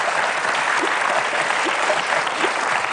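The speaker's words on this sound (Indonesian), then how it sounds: "berikan tepuk tangan dulu dong buat Pak Mulyana" A studio audience on an Indonesian television talk show claps steadily throughout, a dense, even wash of applause with no talking over it.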